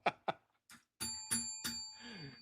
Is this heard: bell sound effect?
yes